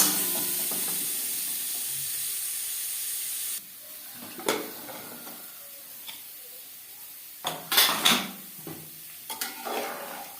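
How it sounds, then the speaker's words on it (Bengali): Potatoes frying with salt and turmeric in a pan: a loud, steady sizzle at first gives way to intermittent clinks and scrapes of a utensil stirring, close up with no talking. "লবণ হলুদ দিয়ে আলু ভেজে নেব।"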